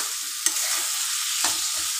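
Elephant foot yam is stirred into frying tomato, ginger and green chili in a pan, a close steady sizzle with a couple of sharp stirring scrapes and no talk.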